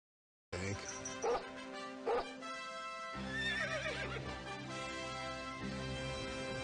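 Dogs barking in a Super Bowl commercial, several sharp barks over a bed of music, with horse whinnies mixed in, moderately faint.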